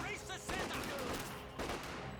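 Infantry rifles and machine-gun fire crackle in Company of Heroes 2 as grenadiers and rifle squads trade shots, quick bursts at mid distance, fairly faint under the game's battle noise.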